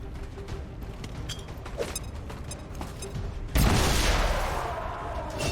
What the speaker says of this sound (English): Let's use a grenade and guarantee it.